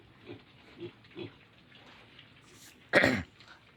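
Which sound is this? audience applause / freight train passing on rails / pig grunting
pig grunting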